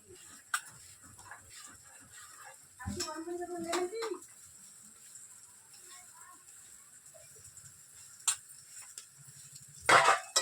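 Chow mein noodles with egg stirred and tossed in a pan while cooking chicken chow mein, giving intermittent scrapes and metallic clinks close by, with a louder clatter of utensil on pan near the middle and end.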